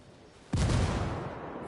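A frag grenade detonates in the video game Ghost Recon, one sudden loud, booming blast that rumbles on and slowly decays.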